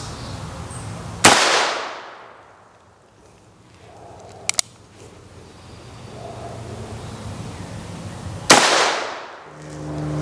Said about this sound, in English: I think I'm gonna start with the 17 HMR. Let's go. I'm going to shoot to the target on the left.